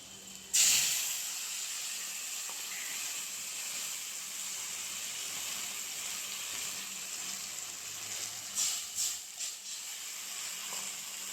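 Water poured onto fried onion with a ginger, garlic and onion paste in a hot pan bursts into a loud, sudden sizzle that settles into a steady close hiss, with a few clinks near the end.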